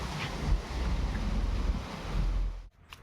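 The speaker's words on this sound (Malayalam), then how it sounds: "അവിടെ ഒരു കാറ്റുണ്ട്." Strong wind blows outdoors in a constant low roar buffeting the microphone, gusting loudly before dropping off abruptly near the end; no one speaks.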